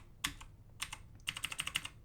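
Button clicks on a cheap Corsair-style keyboard while cycling through its lighting colors, a few separate clicks followed by a quick run of about six evenly spaced presses, close and crisp, with no talking.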